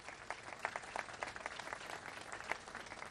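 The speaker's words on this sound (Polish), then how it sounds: "Teraz podziękujmy im oklaskami wszyscy razem." A crowd at a gathering with migrants at a reception centre in Hal Far, Malta, claps in thanks. Individual sharp claps stand out within a fairly close, uneven burst of applause that lasts about three seconds.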